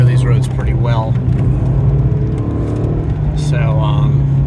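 A Fiat Coupe with a turbo drives through twisty roads, its engine humming steadily up close beneath people talking.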